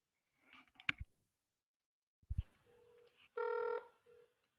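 A telephone call being placed: faint dialing clicks and button tones, a pause, then a bright ringback tone that swells loudly for about half a second before fading, with no talking.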